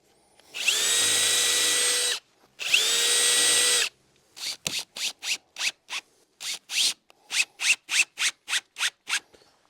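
A power drill whines in two long runs, then bursts into a rapid series of short, sharp drilling pulses into the bottom of a wooden newel post, close and loud with no talking.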